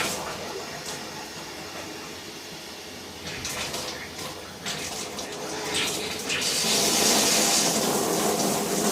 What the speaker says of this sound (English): I'm gonna turn the water on and see what happens.